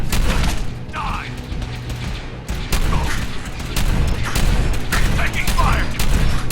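Gunfire and explosive booms from the video game Fallout 4 crackle in repeated loud bursts, mixed with mechanical clanks and electronic game sounds throughout.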